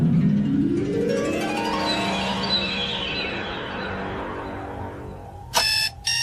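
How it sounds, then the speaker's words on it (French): Alarm clock ringing in a Futurama cartoon scene, a bright electronic tone with rising sweeps that holds steadily for several seconds, then gives way to two short loud bursts of ringing near the end. "L'alarme du réveil?"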